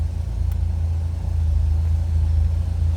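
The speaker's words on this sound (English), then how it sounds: "God, this car sounds good too." The engine of a 1969 Jaguar XKE convertible idles in a steady, loud, deep rumble with an even throb, with no talk over it.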